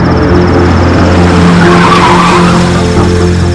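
A car's tires skid and squeal loudly as it turns sharply, a sustained screech over a steady engine roar, close and continuous throughout.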